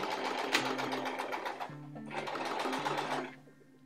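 A sewing machine stitches an embroidered bib in steady bursts, pausing briefly midway, then slowing to a stop near the end, close and clear with no talk.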